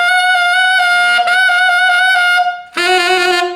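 Tenor saxophone holding a sustained altissimo note fingered 1, 2, 3, 4 with side C, bright and strongly harmonic, followed by a brief dip and a second, lower sustained note, loud and close with no talking.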